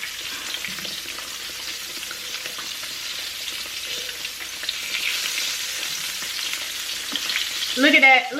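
Green tomatoes sizzle and crackle steadily in hot oil in a pan, frying Southern-style, with a louder burst of spattering near the end as a slice is flipped.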